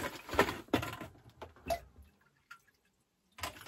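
Distilled water pours into the tank of an ultrasonic vinyl record cleaner in short splashy bursts, then goes quiet for about a second before another gush at the end.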